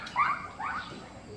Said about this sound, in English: And Dodo is barking